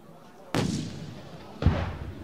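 A T-72B3 or Type 96B tank fires its main gun during a tank biathlon: two sharp, heavy booms about a second apart, each followed by a rumbling decay, heard at a moderate distance without speech.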